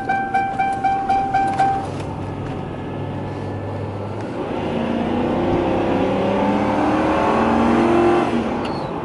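A 2008 Lincoln limousine engine hums while driving, with a low steady road drone that swells and stays fairly loud through the middle, preceded by a few rhythmic ticking beeps at the start.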